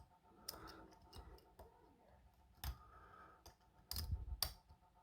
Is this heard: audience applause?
no